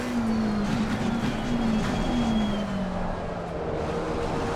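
A McLaren 720S race car laps the Hungaroring in Assetto Corsa Competizione, its engine note loud and close, a sustained howl that sags and rises as it shifts and slows through the run, with no voices.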